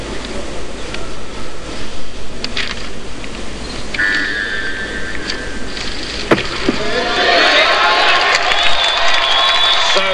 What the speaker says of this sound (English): They're getting a huge cheer from the audience here